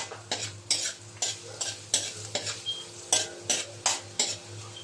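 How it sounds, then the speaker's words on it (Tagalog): Onions sizzle in a pan for kare-kare while a spatula stirs them in a steady rhythm, about a dozen sharp scraping strokes over a low continuous frying hiss, close up with no talking. "Haluin lang natin hanggang sa lumambot ang sibuyas, maluto."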